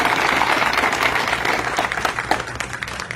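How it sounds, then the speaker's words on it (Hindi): Loud, sustained applause from a workplace audience at a company gathering celebrating a safety milestone, dense clapping filling the whole stretch without pause. "मैं चाहूंगा कि आप अपने लिए जोरदार ताली"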